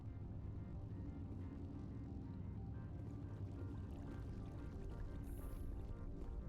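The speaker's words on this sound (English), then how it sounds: "Lovely little ripple to the water as it goes over the textured surface underneath it" Water in a Mass Effect game water feature flowing over a textured surface, a steady, even rippling wash at low level, continuous with no breaks.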